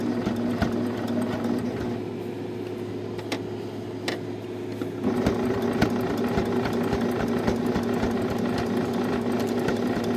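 Sewing machine stitching a quilt-as-you-go potholder: a close, steady mechanical whir with rapid needle ticking, running continuously and getting slightly louder halfway through.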